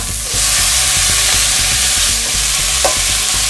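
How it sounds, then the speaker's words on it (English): Tomatoes added to sautéed onions for pav bhaji, a loud, close, steady frying hiss over rhythmic scraping and stirring, with no talking. "Now we will add the tomatoes."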